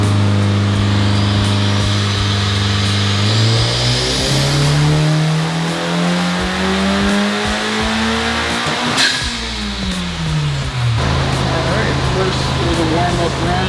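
A 2024 Honda Civic Type R engine revs hard through a warm-up pull on a dyno, the loud droning note climbing steadily in pitch, dropping sharply, then climbing again as the run continues close by.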